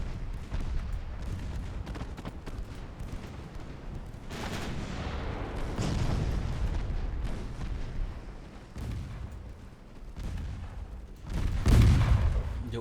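Warship main and secondary guns fire in a naval battle in Ultimate Admiral Dreadnoughts, a dense run of booming salvos with heavy low rumbles and one especially loud blast near the end.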